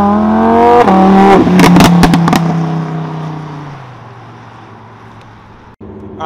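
A Lamborghini Huracan engine revs loud and close, its pitch climbing before sharp crackling pops. The roar then falls away into a lower, fading drone.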